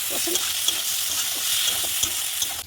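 Spices and soybean chunks frying in oil in a pan with a constant bright sizzle, punctuated by soft scrapes of stirring, close and without talk.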